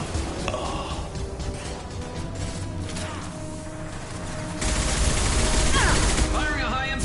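Heavy sustained turret gunfire in Mass Effect 2, a dense rattling fusillade that grows louder in the second half, mixed with game effects and a faint voice.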